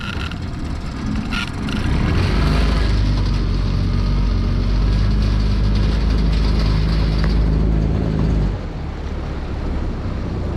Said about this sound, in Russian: В теплую погоду мотор даже без подсоса заводится.